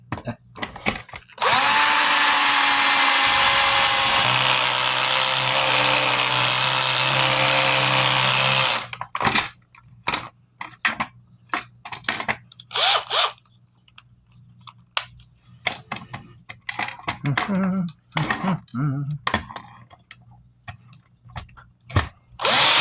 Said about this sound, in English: Now I'm going to make a little hole. Use a little bit of this drill bit since it's broken.